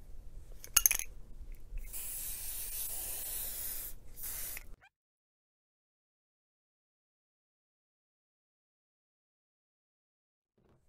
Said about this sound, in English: now I'm going to spray my tea light holders with some adhesive spray